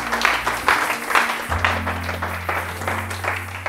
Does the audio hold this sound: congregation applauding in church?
yes